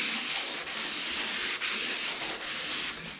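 A block being sanded by hand with light pressure, a continuous close rasping scrub in long even strokes with brief pauses between passes, no talking.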